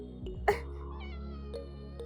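A pet cat lets out one sharp, close meow, followed by a couple of fainter, shorter calls against a low steady background hum.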